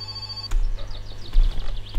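Old-style telephone bell ringing in the My Summer Car video game, a loud rapid metallic trill in two bursts, close and alone over a low hum.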